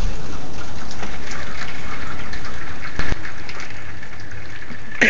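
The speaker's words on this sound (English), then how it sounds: "Everything's dripping. I hear it coming down the gutters." Steady, loud rain patters and drips down house gutters in Warren, Massachusetts, forming an even wash of water noise with no voices.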